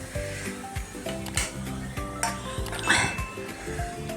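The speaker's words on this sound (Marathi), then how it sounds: "आपलं हे कांदा खोबऱ्याचं वाटण केलेलं आहे ना, ते टाकूया. हे सगळं तेल सुटेपर्यंत भाजून घ्यायचं." Onion and coconut paste frying in oil in a pan for chicken rassa, a soft sizzle under repeated clinks and scrapes of a metal spoon stirring against the pot.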